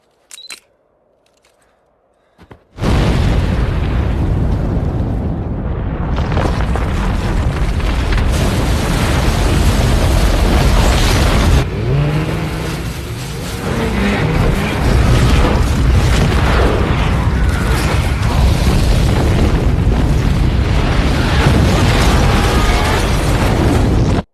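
Explosives set off on a glacier to trigger an avalanche in a film scene, a sudden loud blast after near silence, then a sustained roaring rumble of snow and debris that stays loud for about twenty seconds.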